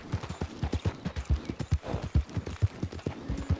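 Video game horse hooves in Red Dead Online clip-clop in a brisk, regular trot, close and distinct, with a faint high hum in the background.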